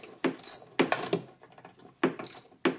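A ratchet wrench clicks in short bursts while loosening a nut on the forward/reverse switch of a 1996 EZGO TXT 36-volt electric golf cart, with close metallic ratcheting and brief pauses between strokes.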